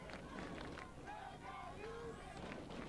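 Crowd at a boys soccer match against Stillwater, a faint distant wash of voices and cheers with some raised shouts, steady throughout with speech-like babble.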